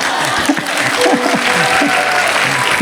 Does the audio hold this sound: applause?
yes